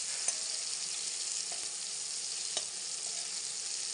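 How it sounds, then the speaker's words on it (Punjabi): Onions, tomatoes and garlic fry in a pan with a steady, dense sizzle that holds even throughout, broken by a few faint clicks of stirring and no voices. "ਪਿਆਜ਼ ਨੂੰ ਆਪਾਂ ਉਨੀ ਦੇਰ ਤੱਕ ਪਕਾ ਲੈਂਦੇ ਹਾਂ ਜਿੰਨੀ ਦੇਰ ਤੱਕ ਆਪਣਾ ਪਿਆਜ਼ ਸੌਫਟ ਨਹੀਂ ਹੋ ਜਾਂਦਾ"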